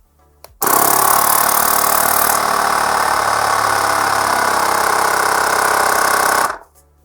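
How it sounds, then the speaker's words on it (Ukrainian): A small Hoco S53 portable car air compressor runs loud and steady for about six seconds with a harsh motor buzz, then stops abruptly. No one speaks. "І вмикаємо, і давайте подивимось, як спрацьовує функція автостоп і як працює сам компресор."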